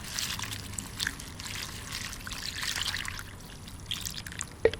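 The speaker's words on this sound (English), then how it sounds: "So we are going to add some water in this one." Water trickles and pours steadily onto red onion peels soaked for plant fertilizer, a soft continuous close splash with a faint clink near the end.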